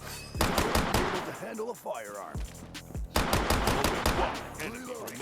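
Rapid bursts of automatic gunfire from the free shooter-brawler game Black Stigma, loud and close, in two long volleys broken by a short lull with scattered game effects and faint voices.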